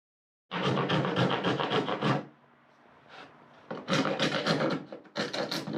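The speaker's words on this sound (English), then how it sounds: "We're just going to cut a 2x4 from corner to corner" Rhythmic back-and-forth rasping of a saw cutting a 2x4 wooden board corner to corner, two bursts of steady strokes separated by a short pause, close and loud.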